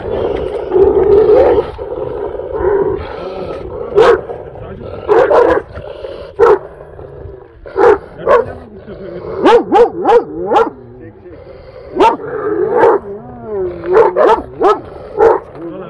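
Large dog barking near cows, loud, deep barks and growling roars in irregular bursts, with people talking in between.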